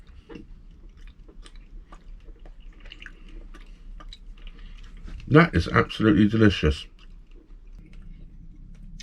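Homemade apple and kiwi fruit leather, studded with crunchy kiwi pips, chewed close up in a short burst of wet, squishy mastication, with a person speaking quietly before and after.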